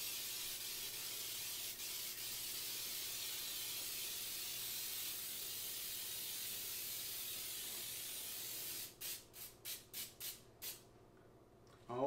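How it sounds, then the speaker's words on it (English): Cooking spray hisses steadily onto a bundt cake pan for orange pound cake in a home kitchen, a long continuous spray followed by several short bursts near the end, close and fairly loud. "so I sprayed my pan down well"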